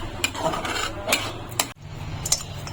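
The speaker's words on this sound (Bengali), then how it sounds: "এখানে আমি 1/2 চামচ কর্নফ্লাওয়ার জলে গুলে রেখেছি, এটা দিয়ে দিচ্ছি। দিয়ে নাড়িয়ে চাড়িয়ে নেব।" A spoon scrapes and clinks against a pan as cornflour slurry is stirred into chutney, intermittent rubbing strokes and sharp metallic taps close up.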